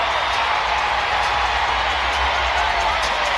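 A boxing arena crowd roars steadily after a unanimous decision goes to Tony Harrison in his fight with Edward Ulloa Diaz, a dense, continuous wash of cheering with no breaks.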